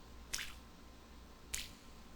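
Two short, wet squelching sound effects from a mobile app, spaced about a second apart, each a quick soft splat against a quiet background.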